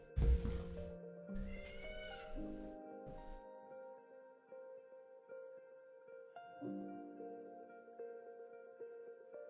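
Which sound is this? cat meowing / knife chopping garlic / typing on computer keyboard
cat meowing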